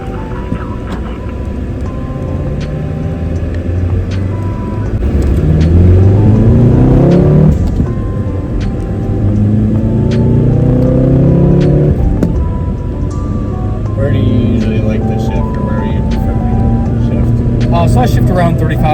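A VW Golf R engine revs up through the gears in several rising pulls with pauses at each shift, heard from inside the car, while a person talks over it.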